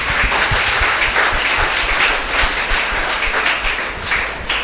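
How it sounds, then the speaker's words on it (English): A congregation at a church gathering claps together in a loud, sustained burst of hand claps that fills the room evenly, with no voices on top. "Will you give a hand clap to Jesus?"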